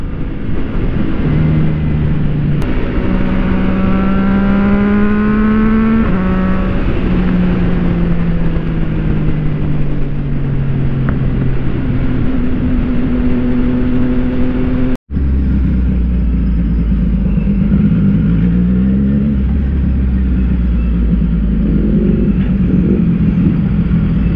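CFMOTO 675 NK motorcycle fitted with an aftermarket exhaust, its engine loud and close as revs rise and fall through several gear changes, with a brief cut midway before the exhaust note resumes.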